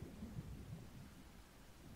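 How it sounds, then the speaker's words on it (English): Distant thunder rolls low and faint through a storm in the Sea of Thieves pirate game, a soft continuous rumble with no voices over it. "now I'm right in the midst of the storm"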